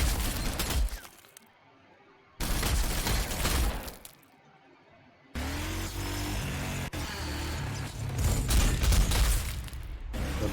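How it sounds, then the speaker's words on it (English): Grenade explosions in the video game Warhammer 40,000: Sanctus Reach, heavy loud blasts in several bursts broken by short quiet gaps, with rumbling battle noise and engine sounds carrying on between them. "Grenades, not nice."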